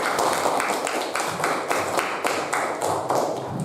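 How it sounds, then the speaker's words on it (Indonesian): Fifth-grade pupils clap together in a classroom, a brisk run of close, sharp hand claps repeating steadily and loudly on their own throughout. "Tepuk tangan."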